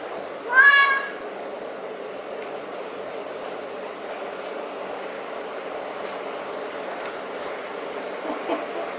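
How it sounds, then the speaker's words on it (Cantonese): A single bright, rising cat meow sounds near the start. It comes from a nine-year-old cat adopted at four and a half months, and is followed by steady, low indoor room noise. "呢隻貓就叫叻叻啦，佢成日都叻叻叻叻咁嘅聲嘅，所以咪叫叻叻咯"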